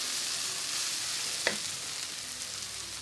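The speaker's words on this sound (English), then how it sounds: "I like them to soften slightly and get some of that acidic flavour into the oil." Chillies frying in oil, a steady bright sizzle close up with one brief click midway, constant and unbroken with no talking.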